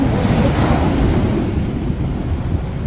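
Strong sea waves break against the shore by Yeongjin harbour, a loud, steady broadband wash with gusts of wind noise throughout and no voices.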